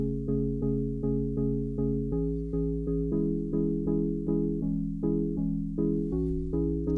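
Soft, plucky synth chords run through a low-pass filter in a steady rhythmic progression for a garage track's break, dry and fairly loud, with repeated chord stabs and no voices.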